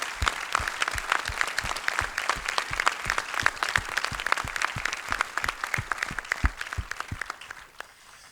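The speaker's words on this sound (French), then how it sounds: "les applaudissements" An audience claps enthusiastically, dense rapid applause that holds steady and then tapers off toward the end.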